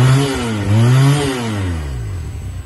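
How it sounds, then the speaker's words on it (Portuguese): A Taro GP1 250R motorcycle engine revs up and drops back, loud and close, the pitch climbing and falling in a smooth sweep before settling to a lower idle, with no voices. "Aí vemos o barulho do som do motor."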